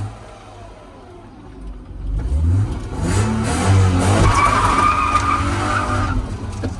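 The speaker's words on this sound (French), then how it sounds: "Ça y est un burn vite fait." A BMW E36 performs a burnout with a welded front differential, tyres skidding and screeching loudly as the engine revs hard, starting after a quieter idle and holding for several seconds close by.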